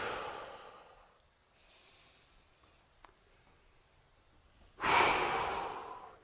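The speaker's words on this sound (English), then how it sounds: "I'm giving some forced exhales to really exert some energy." A forceful breath out during a qi gong breathing exercise, a soft exhale fading at the start, then a quiet stretch and one sharp, loud forced exhale near the end, close and unaccompanied.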